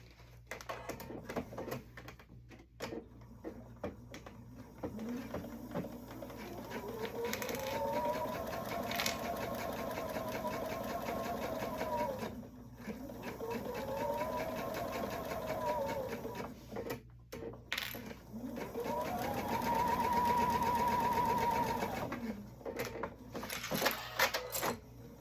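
A sewing machine top stitching the open side of a fabric Christmas stocking, running in a few steady stretches of whirring motor hum with short pauses between, fairly quiet and close, with no talking.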